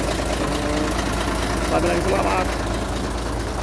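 A Forward truck engine treated with XADO runs at a steady, loud idle with a constant low rumble and faint mechanical knock throughout, while someone speaks briefly over it.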